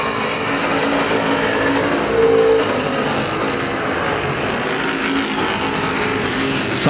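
Street stock race cars roar steadily around the Perris Auto Speedway oval, a dense, continuous engine drone with a brief swell near the middle as cars pass close, heard with no talking.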